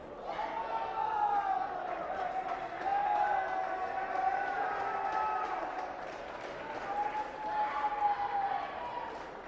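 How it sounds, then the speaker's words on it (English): Crowd at a high school basketball game cheering for a male cheerleader, a steady roar of voices with swelling peaks and scattered shouts over continuous chatter. "They're cheering on Angel Rodriguez"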